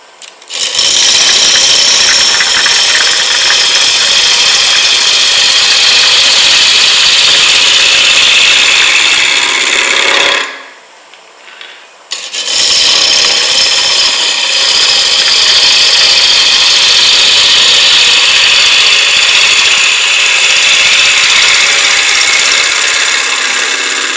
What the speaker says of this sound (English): This is cherry we're cutting. It's cutting very nicely.